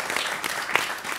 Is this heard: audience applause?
yes